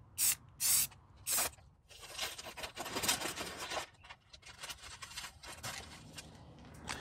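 A spray can painting a 1998 Jeep Grand Cherokee ZJ in a back yard, opening with three short sharp hisses, then a longer continuous spray with uneven pressure.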